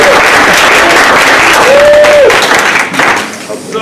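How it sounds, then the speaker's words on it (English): Audience at a community know-your-rights forum for unhoused people breaks into sustained applause, a dense loud wash of clapping with crowd noise and a voice audible underneath, tapering slightly toward the end. "let's give another round of applause"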